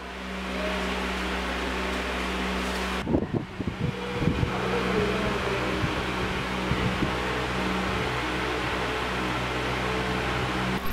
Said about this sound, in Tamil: இப்ப பாத்தீங்கன்னா இந்த ஃபேன் செஞ்சிட்டோம்.